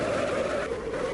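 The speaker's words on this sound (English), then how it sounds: "I spun out at the last minute" A car spins out on an asphalt road in BeamNG.drive, giving a continuous loud, rough skid and tire scrub that lasts the whole moment without letting up.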